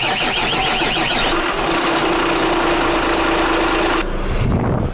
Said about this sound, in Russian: Давай сейчас запустим левый мотор и сравним.